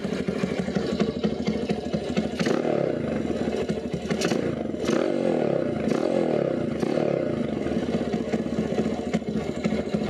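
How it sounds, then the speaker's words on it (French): Quad bike engine running through its exhaust, a continuous loud close throaty rumble with a rattly mechanical texture and slight rises in revs. "L'échappement fait un bruit plutôt sympa, j'aime bien."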